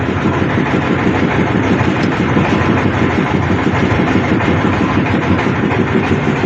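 An engine runs under load, loud and steady throughout, a constant close rumble with a rhythmic mechanical chug and no pauses.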